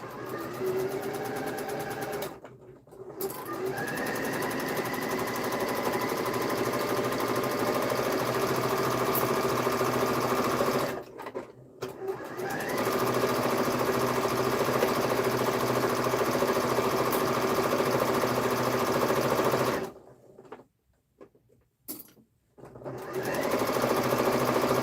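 A sewing machine runs a quarter-inch seam on patchwork for a duffle bag, a loud, close, steady motorized whir that goes on for long stretches, broken by a few brief pauses.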